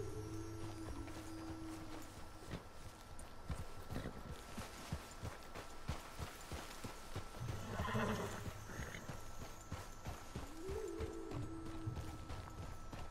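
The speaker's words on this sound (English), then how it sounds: "Careful! Please control that horse." A horse in the video game Red Dead Redemption 2 clip-clops along at a steady pace and lets out a couple of whinnies, with faint birds in the background and no talk.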